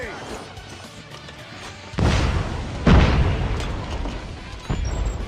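EMP blast in Call of Duty Mobile sounds as a sudden loud boom followed by a second heavier thump and rumbling game effects, with faint in-game announcer chatter beneath.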